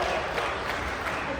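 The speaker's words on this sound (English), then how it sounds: "Take a look at this crowd right here." A large, steady crowd roars and applauds at the Halo Arena during a DreamHack Dallas esports competition, a dense and continuous wash of cheering with no breaks and no one speaking clearly.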